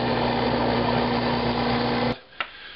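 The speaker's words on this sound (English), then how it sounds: "Then I'm going to finish off the holes with the drill press." A drill press drilling holes in wood for homemade clamps hums at a constant steady pitch, close by, then cuts off abruptly, followed by a couple of faint clicks.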